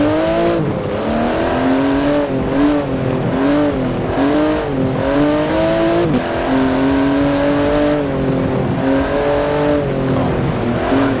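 Racing car engine in Forza Horizon 4, driven with a steering wheel, revving loudly and continuously, its pitch climbing and dropping with each gear change across the whole stretch, with occasional talk over it.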